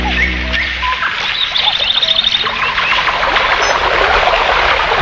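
Small birds chirp and trill over a constant rushing outdoor background of a flowing waterfall, in a Doraemon cartoon.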